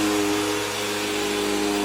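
A vacuum cleaner runs steadily at close range after a clog repair, a loud constant whirring drone with a low motor hum and no change in pitch.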